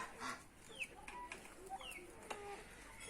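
Quiet, scattered clucks and short squawks from a white Sussex chicken, a few soft calls spread across a faint outdoor background.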